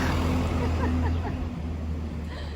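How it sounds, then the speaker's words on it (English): A loud truck rumbles past on a narrow small-town street in rural Japan, its low engine drone steady and close, with faint background babble underneath. "and a loud truck"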